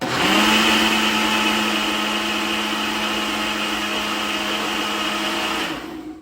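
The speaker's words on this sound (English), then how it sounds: "I'm using the Ninja Professional." Ninja Professional blender whirring through curry ingredients for tilapia curry rundown in coconut milk, a loud steady high-pitched motor whine that holds for several seconds, then spins down and stops.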